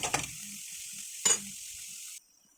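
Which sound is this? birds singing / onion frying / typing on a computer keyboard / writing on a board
onion frying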